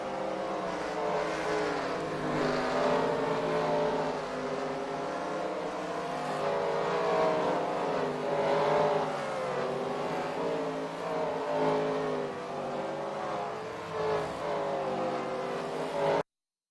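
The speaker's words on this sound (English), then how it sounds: "What a wonderful view this is to see all these cars come on out to the track." Race cars in the NR2003 racing game rolling out onto the track at the Chili Bowl Nationals, a continuous layered engine drone with shifting revs and several cars blending together, steady and moderately loud without talk.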